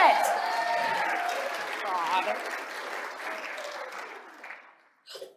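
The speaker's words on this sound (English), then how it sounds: "Cheer her on for that." A keynote audience claps and cheers for a speaker, with a dense wash of applause and whoops over a voice, fading gradually and dying away near the end before a brief last sound.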